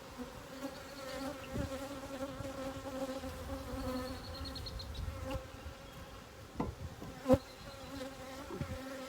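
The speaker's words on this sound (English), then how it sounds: "there's bees kind of like all over the place right now because I disrupted them a little bit" Disturbed honeybees buzzing around a hive, a steady, faint droning hum with individual bees passing close by, no talking.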